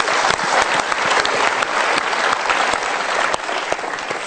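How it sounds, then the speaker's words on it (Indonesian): Studio audience applause, loud continuous clapping from a large crowd, steady and dense throughout with no voices over it. "Kita berikan tepuk tangan untuk mereka."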